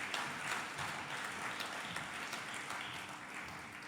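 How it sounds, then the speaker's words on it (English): Audience applause at a book launch honouring a professor, a steady wash of many hands clapping at moderate distance, continuous for the whole stretch without clear individual claps standing out. "Give Gabby another round of applause."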